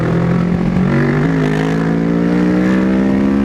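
A new motorcycle's engine runs close by in morning traffic, a loud, steady harmonic drone whose pitch steps up slightly as the throttle is worked, with no talk.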